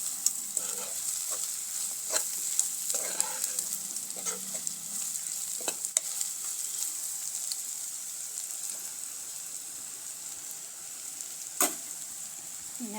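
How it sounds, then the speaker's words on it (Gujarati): Crushed peanuts and sugar mixed in a pan, with a steady soft sizzle underneath and occasional light scraping and tapping from the spoon, quiet and close with no voices. "આ બધું આપણે સરસ રીતે મિક્સ કરી લેવાનું છે।"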